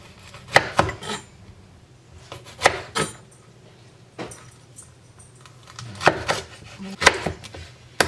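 A knife chopping quartered jalapenos and onions on a cutting board in a home kitchen, in short bursts of sharp, close knocks separated by pauses, with no talking.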